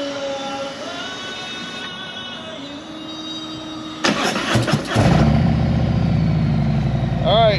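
A Harley touring motorcycle sits quietly at first, then its engine cranks and catches midway and settles into a loud, deep, lumpy idle before rolling off, with a voice speaking early on.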